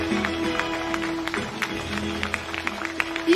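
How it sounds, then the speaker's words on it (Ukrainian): Audience applause for a performer at his creative evening, a steady patter of clapping from the crowd running throughout, moderately loud under a sustained musical tone. "Ще раз оплесками подякуємо йому за його талант."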